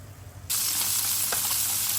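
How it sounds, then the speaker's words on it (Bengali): Koi fish with slit backs sizzle loudly in hot oil, alongside new potatoes, starting abruptly after a brief quiet moment and holding a steady, close hiss with a few small pops. "এখানে আমার কই মাছ ভাজা চলছে"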